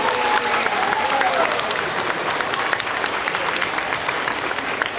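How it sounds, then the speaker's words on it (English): Audience at an elementary school Veterans Day ceremony applauds veterans in attendance, a steady, dense roll of clapping from a large crowd sustained for the full stretch, with a faint voice briefly audible early on. "give a round of applause and thank you for all of our veterans who are attending this today"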